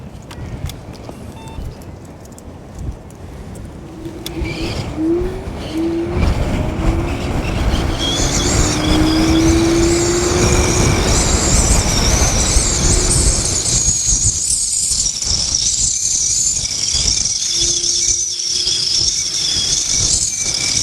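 A single-motor Inmotion RS Midnight Lite electric scooter climbs a hill at around 26 miles per hour. Wind roar builds steadily with a high motor whine, rising and loud throughout, with occasional squeaks and no speech.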